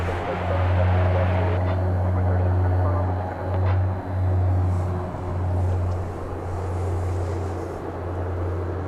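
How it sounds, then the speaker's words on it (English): An Ameriflight cargo plane at DFW Airport at night gives a steady, droning engine hum with a strong low tone, heard from a distance alongside faint wind and handling noise. "I believe that to be an Ameriflight cargo."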